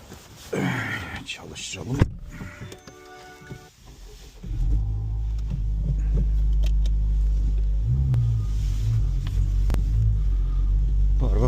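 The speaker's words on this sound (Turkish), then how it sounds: "Arabayı bir çekelim yerine olmazsa şimdi." A Honda Civic with a four-cylinder turbo engine rumbles to life after some brief talk, then runs at a steady, deep, continuous drone as the car is moved.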